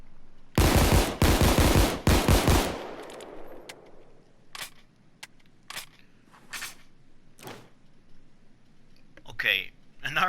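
An M1911 Crosskill pistol in Payday 2 fires a fast, loud burst of shots, followed by scattered clicks, mechanical handling sounds and brief murmured talk.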